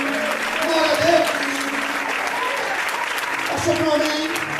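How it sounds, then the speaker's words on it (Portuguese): A church congregation claps steadily throughout, with a preacher's amplified voice speaking over the applause. "Aplaude o Senhor mais forte."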